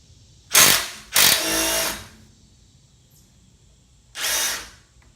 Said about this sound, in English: We're going to be testing out the 1/4 inch driver again. This time trying to remove some 13mm bolts from the brake caliper